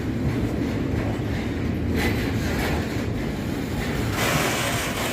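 A freight train in London passes close by, its engines revving with a loud, continuous roar and rumble, broadband rushing wheel and wagon noise steady throughout with no voices.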